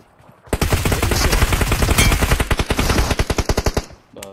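Rapid gunfire from a mobile shooter video game, a long rattling burst of automatic shots that breaks into distinct evenly spaced bangs, loud and close.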